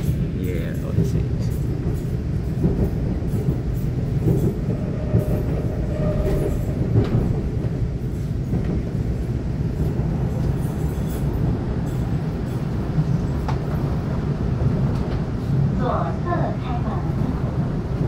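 A Taroko Express tilting train on the eastern line in Taiwan rumbles steadily past at close range, with continuous rail clatter and wheel noise throughout while someone talks over it.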